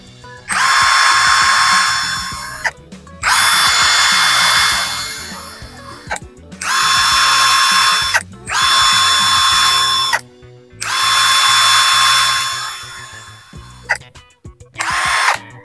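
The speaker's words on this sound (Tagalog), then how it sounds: "Testing natin itong ginawa natin na Inco P20S impact wrench, kung magtutuloy-tuloy yung ikot niya" An INGCO P20S brushless impact wrench, under repair for a stator fault that made it smoke, runs in several long, loud bursts of steady high motor whine, each separated by short pauses, with no speech.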